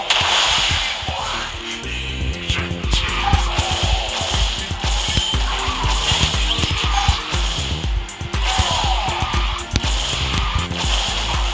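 A Rolls Royce QEX car drifts in the QQ Speed Mobile video game, engine roaring loudly and continuously while tires squeal through a long turn, with game music and effects layered beneath.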